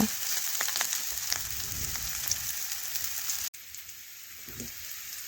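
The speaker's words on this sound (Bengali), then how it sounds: "এইভাবে উল্টে পাল্টে করলাটা আমি ভালোভাবে ভেজে নেব।" Bitter gourd pieces fry in oil in a pan, producing a steady, close rain-like crackle and sizzle with occasional pops, dropping briefly and turning quieter after a stir midway.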